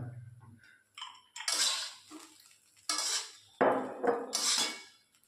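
Fried rice being mixed in a pan with a metal utensil: several separate scraping, clattering strokes, loud and close, with short quiet gaps between them.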